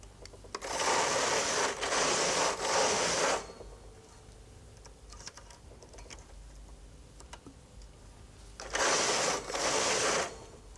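A Brother Electroknit KH 950i knitting machine knits a garment in loud, rasping carriage sweeps, three close together, then a pause with faint clicks, then another sweep.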